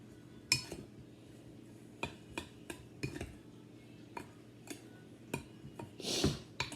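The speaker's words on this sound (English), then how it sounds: "And then you want to mix it up" Spoon clinking and scraping against a glass jar while brownie batter is stirred, with about eight sharp, uneven taps and a longer scrape near the end, close and moderately loud, with no talking.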